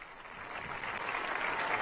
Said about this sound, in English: now applauding, all on their feet